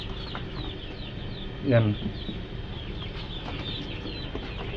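Native chickens in their new coop giving a soft cluck and a short call, faint against low background noise, with a brief word spoken.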